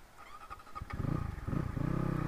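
Motorcycle on an off-road trail, its engine starting at a low idle and then throbbing louder with a steady, pulsing rumble as the bike pulls away close by.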